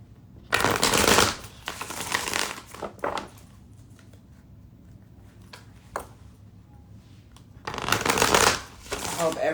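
A deck of tarot cards being shuffled in close, loud bursts, with quieter handling and soft shuffles between the louder riffles.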